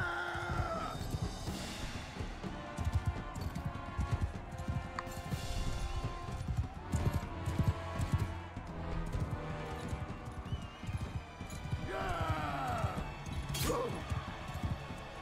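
Steady clip-clop of galloping hooves in Mount & Blade II: Bannerlord runs throughout, mixed with game sound effects, occasional crashes and a brief whinny, fairly loud and continuous.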